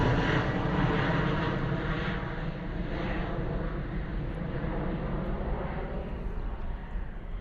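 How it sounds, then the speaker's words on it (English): A Ryanair Boeing 737 departing Bristol Airport gives a loud, sustained jet engine roar that holds steady and eases only slightly as it climbs away, with no talking. "Gorgeous departure from our Ryanair Boeing 737."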